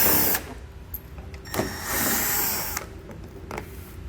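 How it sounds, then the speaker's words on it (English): A power tool whirs in short bursts as bolts are run out from the front fascia of a 2020 Chevrolet Equinox, with brief pauses and clicks between runs, close up. "Then we can pull all 6 of them out that are spanning across the very front here."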